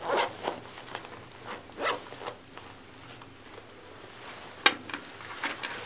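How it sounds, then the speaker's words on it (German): Zipper on a BE-X dump pouch for spent magazines, a two-slider zip track being pulled open and closed in several short close rasping strokes, with a sharper click of handling near the end, quiet and without speech. "Er verfügt zur Öffnung über eine Reißverschlussbahn mit zwei Verschlüssen."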